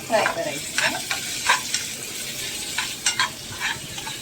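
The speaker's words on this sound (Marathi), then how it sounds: "छान मस्त फ्राय होत आहे" Chicken rubbed with salt, turmeric and ginger-garlic fries in a pan for butter garlic chicken, a close continuous sizzle broken by repeated scraping stirs and spatula knocks, no voices.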